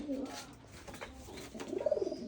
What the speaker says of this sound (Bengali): এই দেখেন কবুতরগুলো কত মুক্তভাবে